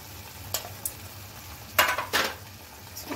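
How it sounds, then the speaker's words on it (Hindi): A spoon stirs cumin, red chili powder and turmeric frying in a pan, giving a few soft scrapes and then two louder sizzling stirs against a quiet background. "इसको चला दूंगी"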